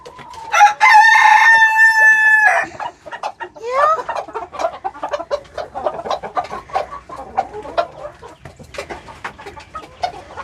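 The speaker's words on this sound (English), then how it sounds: "these little guys are just the cutest things, the little roosters" A young rooster crows loudly up close in a chicken coop, followed by a busy stretch of clucking and scattered calls from several birds.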